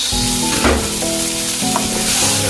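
About 100 grams of an ingredient goes into a hot pan and is stir-fried, giving a loud, continuous sizzle broken by scraping stirs and clanks of the utensil, with no talk.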